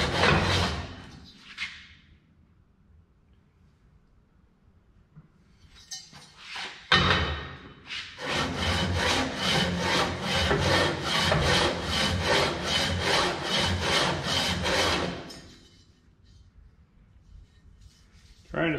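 A Wisconsin engine cylinder head is rubbed by hand across a sanding bed, giving a steady rhythmic back-and-forth scraping for several seconds, close and fairly loud, with brief scrapes before and a pause after.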